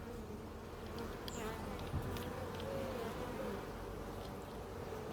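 Honey bees buzz steadily around an open hive while comb is cut for smaller frames, a dense close swarm drone holding at even loudness throughout.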